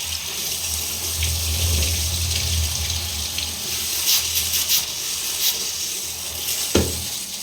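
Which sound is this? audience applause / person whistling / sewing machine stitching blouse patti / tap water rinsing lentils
tap water rinsing lentils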